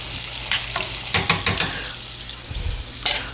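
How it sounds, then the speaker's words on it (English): Corn frying in a hot pan is stirred with a spoon, giving a soft sizzle broken by several scraping, clattering strokes and a low thump. "Stir my corn here a little bit."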